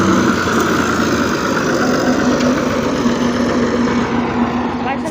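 A tractor engine idles with a steady, dense mechanical rumble and a constant hum, loud and close, waiting to push a stuck vehicle, with distant voices faintly underneath.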